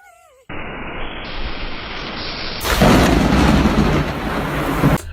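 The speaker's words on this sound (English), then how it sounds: "The thunder scares the squirrel and it literally has its hand over its heart" Loud thunder and heavy rain that grows stronger partway through, a dense continuous roar close by with no talking.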